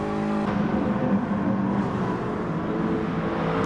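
Gr4 racing cars in a Gran Turismo endurance race at the Maggiore GP circuit, one car alongside a McLaren. Their engines drone steadily and loudly at high revs throughout, with no break.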